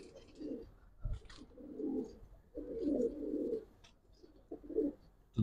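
Giribaz pigeon cooing up close, a series of soft, low, rolling coos in repeated phrases with short pauses between, quiet and alone.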